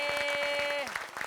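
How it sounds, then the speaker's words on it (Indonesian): Studio audience applause at an Indonesian comedy game show, dense steady clapping under a sustained tone that glides downward, fairly loud throughout and thinning slightly near the end. "Tepuk tangan dulu"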